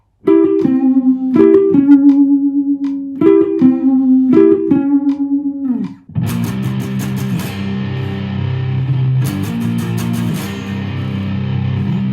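A clean electric guitar plays a repeating riff of quick hammer-on notes, then switches to a thicker, distorted tone with chugging strums.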